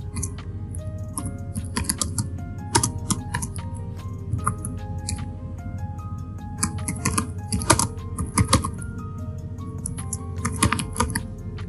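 Fingers tap on a computer keyboard in quick bursts of clicks separated by short pauses, close by and fairly soft against a low background hum.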